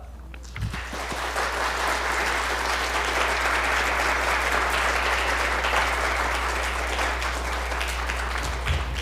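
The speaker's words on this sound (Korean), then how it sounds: "앞에 나오실 때 우리 큰 박수로 환영해 주시기 바랍니다." Church congregation at a Sunday afternoon service breaking into warm applause to welcome a missionary speaker, swelling quickly after a brief start and holding as a full, even roar of clapping.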